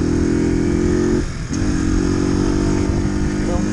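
A 50cc four-stroke Mash motorcycle engine runs steadily at close range with an even, buzzing drone. Its sound dips briefly once and then resumes.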